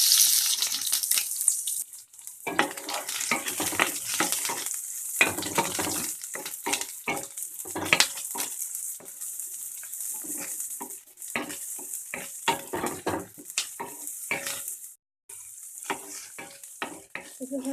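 Chopped onion and two green chillies frying in hot oil for egg Maggi, a bright sizzling hiss broken by repeated spatula stirring and scraping against the pan, with brief quieter gaps, no talking.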